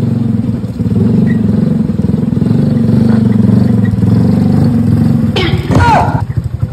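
Motorcycle engine running with a steady, continuous mid-pitched drone that holds loud throughout and rises briefly near the end, with people talking over it.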